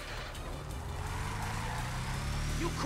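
A car driving in Grand Theft Auto V, a steady engine drone with a rising pitch as it accelerates over a couple of seconds, close and continuous.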